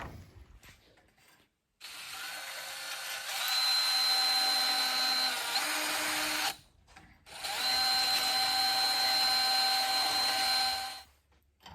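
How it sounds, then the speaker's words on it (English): A power drill whines in two long bursts separated by a short pause while drilling holes in cast iron, its grinding, ratcheting tone steady and close. "drill those holes and clean them up"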